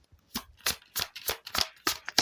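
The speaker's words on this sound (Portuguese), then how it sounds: "São 6 cartinhas que eu gosto de tirar com o baralho cigano." A deck of Gypsy fortune-telling cards is shuffled by hand in a series of about seven crisp, papery riffles that come in an uneven rhythm. The cards are close and clear, and nobody speaks.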